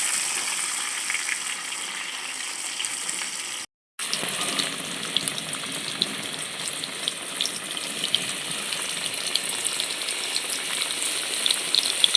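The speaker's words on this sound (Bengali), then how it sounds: "আলুগুলো ভেজে নিচ্ছি" Potatoes fry in oil in a wok, giving a loud, dense, continuous sizzle with crackling pops. The sound cuts out briefly near the start, then resumes just as steadily.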